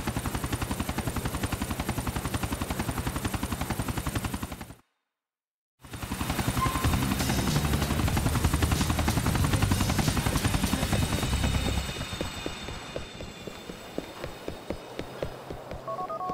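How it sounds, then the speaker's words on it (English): Helicopter in Grand Theft Auto IV: a steady, close rotor chop with rapid rhythmic thudding and a whining turbine tone, cutting out for about a second midway, then resuming and thinning into sparser pulses toward the end. "We shut down that chopper."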